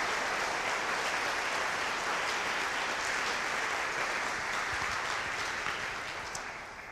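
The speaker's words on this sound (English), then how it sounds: "give them a round of applause" A band concert audience keeps up sustained, dense applause throughout, loud and steady, tapering slightly toward the end.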